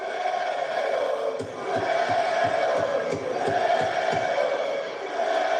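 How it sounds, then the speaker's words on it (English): A large wrestling crowd at a TNA event in El Paso chants loudly in a steady rhythmic cadence, a dense roar of voices filling the arena and swelling in repeated waves. "I don't know what the crowd's chanting, but it's loud."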